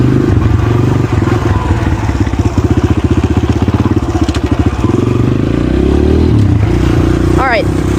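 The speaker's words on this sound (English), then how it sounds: "So you can start to hear the bike getting higher and higher." A dirt bike engine revs close by as it shifts up through the gears, its pulsing exhaust rising and falling in pitch under someone talking.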